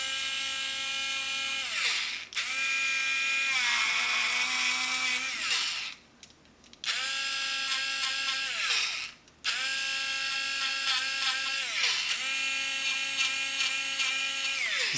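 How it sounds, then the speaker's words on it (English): A small electric eraser on drawing paper whines in three close, loud bursts of high motor buzzing, each pitch dipping as it presses into the paper, separated by short pauses. "So right here I can bring it back with the electric eraser and just go in"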